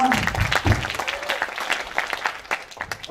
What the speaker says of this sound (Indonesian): Mungkin kasih tepuk tangan dulu dong biar nggak ngantuk juga nih teman-teman.